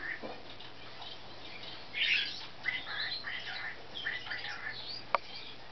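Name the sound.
African grey parrot squawking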